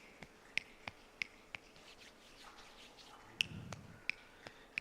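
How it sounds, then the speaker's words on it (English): A series of sharp, sparse finger snaps at an irregular, unhurried pace, like scattered raindrops, with a soft low rumble partway through. "we're all going to start just by doing some snaps"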